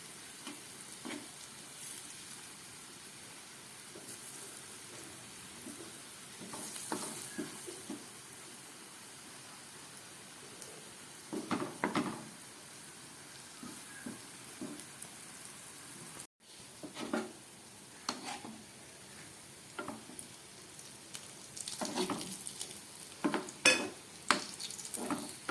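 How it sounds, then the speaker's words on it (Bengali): Potato kofta fry in hot oil with a steady soft sizzle, broken by repeated scraping and clinking as a utensil stirs them in the pan, the stirring bursts coming in irregular clusters. "নেড়ে চেড়ে আলুর কোপ্তাগুলোকে খুব ভালো করে ভেজে নিতে হবে।"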